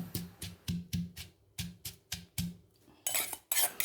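Chilies and ground salt pounded in a mortar: about a dozen regular, close, hollow thumps in a steady rhythm, ending in a brief scraping clatter.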